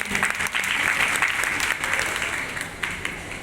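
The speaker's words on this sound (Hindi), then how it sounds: "आज के संचालनकर्ता पारिस बरवा के लिए जोरदार तालियां हो जाएं।" An audience at a public gathering in Hathras applauds the event host, a dense burst of clapping that stays loud and close for several seconds before gradually thinning out.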